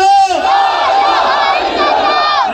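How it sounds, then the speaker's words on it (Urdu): A large crowd at a political rally roars a slogan back in unison, loud and sustained, right after a lone voice calls it out. "آپ نے پورا زور لگانا ہے تو پھر میں نے اگلا نعرہ لگانا ہے"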